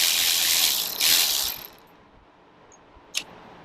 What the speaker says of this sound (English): I'm going to use a 12mm socket.